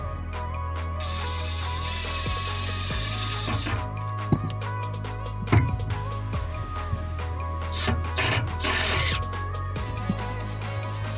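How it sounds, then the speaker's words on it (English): Self-tapping screws driven into a support panel with a power driver, a whirring mechanical buzz running for several seconds, then scattered clicks, knocks and a second shorter burst of driving. "Let's see if the self-tapping screws are going to work"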